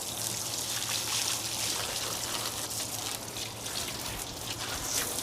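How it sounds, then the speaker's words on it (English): Fresh water rinsing a boat's components, a steady splashing trickle with a faint low hum beneath, continuous and fairly close with no talk. "So I'm just trying to rinse it with fresh water."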